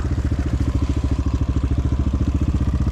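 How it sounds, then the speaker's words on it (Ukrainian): Several enduro motorcycles idle at a season-opening event, their engines thumping in a steady, close, continuous pulse. "О, скільки мопедів!"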